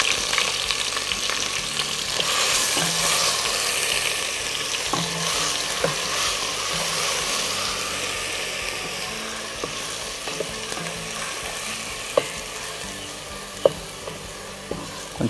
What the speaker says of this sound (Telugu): వేగుతుండగా ఉల్లిపాయలు నూనె ముద్ద ఉల్లి పేస్ట్ వేసి